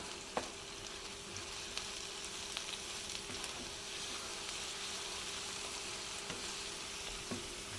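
Minced garlic, about a tablespoon, sizzles steadily in a hot pan with a soft, even crackle, punctuated by occasional light clicks of stirring; close and fairly quiet, with no voices.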